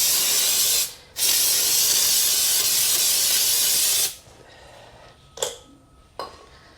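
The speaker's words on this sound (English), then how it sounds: "let's give it a quick spritz." Quick spritzes from a spray can onto a Suzuki VL250 motorcycle part: a long close hiss, a brief gap, then a second sustained hiss, followed by two short puffs.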